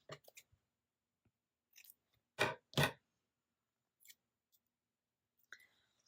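Scissors snipping through a Happy Planner sticker sheet to trim off a word, a few crisp close cuts with two louder snips in the middle and light paper handling between them in a quiet room.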